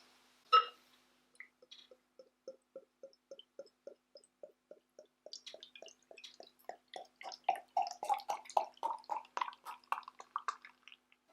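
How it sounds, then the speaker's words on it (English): Beer poured from a bottle into a glass: a sharp clink, then a steady run of glugs that quicken and climb in pitch as the glass fills, close and clear with no talking. "That is a pretty nice pour."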